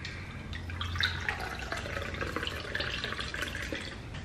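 Water poured into a glass for a homemade lemon drink, a soft steady trickle with light splashing and dripping, close and fairly quiet, continuous throughout.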